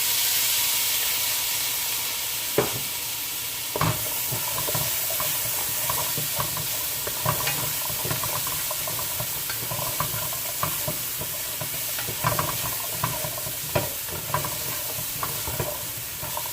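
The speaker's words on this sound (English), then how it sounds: "Now I'm going to add my chickpeas." Chickpeas tumble into a pot of frying Jamaican-style curry and get stirred, with a steady sizzle broken by repeated sharp spoon knocks and scrapes.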